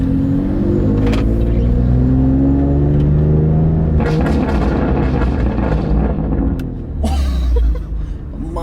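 BMW F80 M3 fitted with VRSF catless downpipes revs loudly up close, deep rumbling blips with burbling crackle between throttle taps, and a voice briefly audible over the engine.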